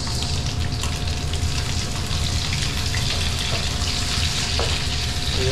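Onions frying in a pan, a dense steady sizzle and crackle heard up close, with faint intermittent clinks and a thin tonal hum underneath.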